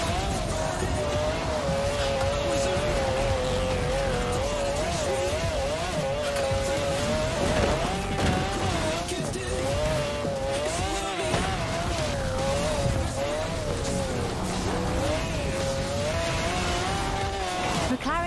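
A McLaren race car in Forza Horizon 4 drives hard, its engine note rising and falling through gear changes with a steady roar, tire noise beneath, and a voice talking over it.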